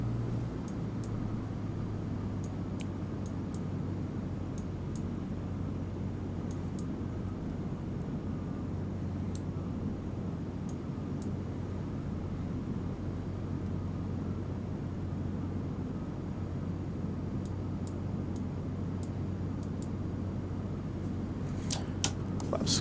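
Piper Warrior engine droning steadily inside the cockpit on approach to landing, a loud constant low hum with a few faint clicks and no talking.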